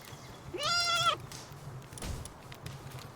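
A sheep creature in the Palworld video game gives one clear, wavering bleat lasting about half a second, close and prominent, followed by softer game sounds.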